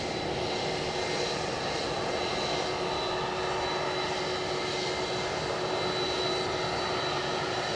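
An airliner at full power on its takeoff roll at Edinburgh Airport, a loud, steady engine roar with a sustained whine holding throughout, no voices over it.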